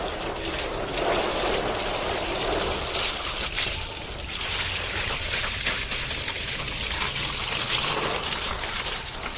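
Water splashes and sprays steadily over an electric scooter being washed, a broad continuous hiss and patter of running water close to the microphone with no talk.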